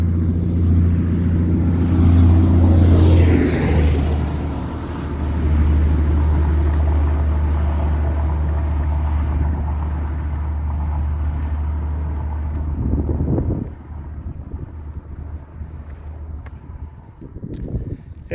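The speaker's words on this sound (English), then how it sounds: "Oh, here comes one of them loud trucks." A loud truck passes close by: a heavy, rumbling engine swells in and builds to a peak, then fades away as the vehicle moves off. No one speaks.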